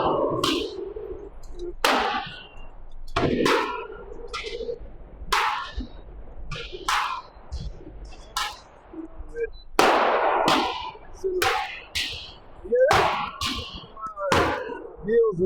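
Repeated sharp shots from a Palmetto State Armory AR-V 9mm rifle ring out at a steady pace, about a dozen close, loud reports, each with a brief echoing tail.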